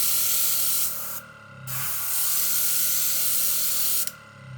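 Gaahleri Serenair airbrush spraying in a steady, close, loud hiss that runs nearly continuously for several seconds, with two short pauses where the airflow cuts off before starting again.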